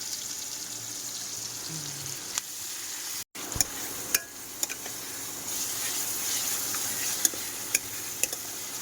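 Spice masala sizzling and being stirred in a pan, a steady close frying hiss with scattered scraping clicks from the spoon and a brief dropout partway through.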